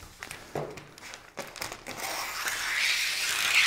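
Cellophane crinkles and crackles as a square is pulled from the roll, close and rustling in uneven bursts that swell into a denser crumpling hiss.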